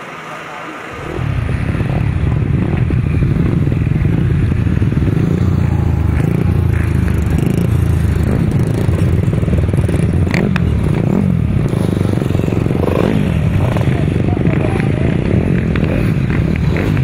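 250cc solo motorcycles racing on a grasstrack, a loud, raw, continuous engine roar starting abruptly and holding steady, with scraping, crackling texture throughout.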